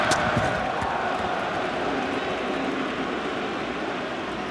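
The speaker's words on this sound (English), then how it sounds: "this crowd already chanting Clemens' first name" A large baseball crowd at Fenway Park in the 2003 ALCS Game 3 between the Yankees and Red Sox makes a sustained roar of distant chanting, steady and broad, with faint commentary over it.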